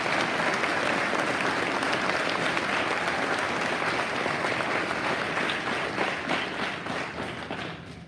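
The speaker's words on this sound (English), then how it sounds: "let's give Miss Diane Knight a round of applause" An audience at a school Veterans Day program gives a sustained round of applause, a thick even wash of many hands that slowly thins toward the end, leaving scattered individual claps.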